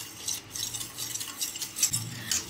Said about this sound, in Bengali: ভালো করে মেশাবো।